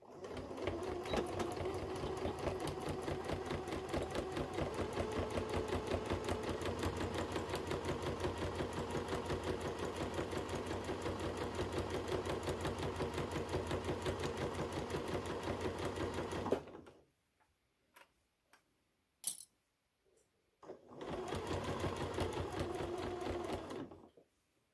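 Sewing machine stitching close to the edge of fabric wipes, a fast steady mechanical rattle running for about seventeen seconds, then stopping with a few small clicks before a short final burst of stitching.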